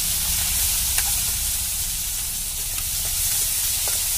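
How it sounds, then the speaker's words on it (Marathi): Garlic and onion frying in a pan on a wood-fired stove give a dense, continuous sizzle close by, with a few faint utensil taps over the hiss and no talking. "आता आपण लसूण टाकू आणि लगेच कांदा टाकून घेऊ."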